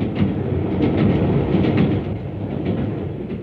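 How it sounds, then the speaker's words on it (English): A 1950s British diesel multiple unit passenger train runs past steadily, a loud continuous rumble of wheels and engine with faint clickety-clack rhythm, no voices. "diesel multiple unit trains have been selected"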